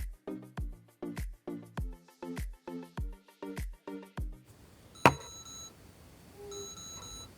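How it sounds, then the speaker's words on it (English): A rapid series of short electronic beeps from an LX-10 earbud finder alarm repeats about a dozen times in an even rhythm, then a sharp click and a few faint tones follow. "It plays a soft alarm if you lose your earbuds."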